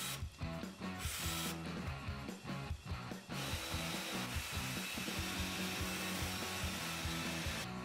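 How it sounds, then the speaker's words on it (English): A power drill bores pilot and countersink holes in a wooden board, its motor whirring in steady bursts that rise and stop, with short pauses between holes. "pre-drilled pilot and countersink holes, making sure each screw head would be an appropriate depth"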